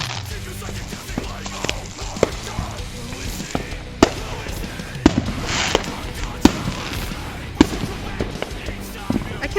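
Firework cannons launch outdoors, sharp thumps and cracks recurring every second or so at varying loudness over a constant crackling background, with voices talking now and then.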